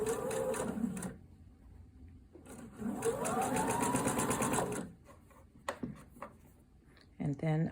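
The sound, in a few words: sewing machine stitching bias tape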